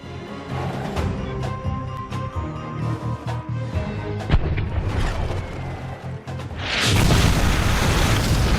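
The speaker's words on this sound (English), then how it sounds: "We've been splattered by their artillery." Artillery fire explosions in the video game Spyro's Adventure: repeated deep booms and bursts over a dense, loud backdrop, swelling into a heavy roaring blast near the end.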